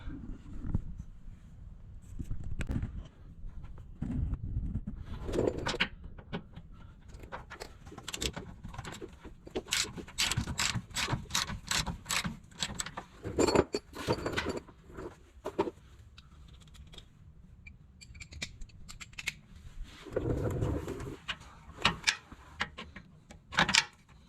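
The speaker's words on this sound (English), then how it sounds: "So we're going to take some of those loose, see if we can get those out and drop the skid plate off." A ratchet loosens skid plate bolts under a Ford F350, giving bursts of rapid clicking with metallic clanks and handling knocks in between, close and moderately loud, with no talking.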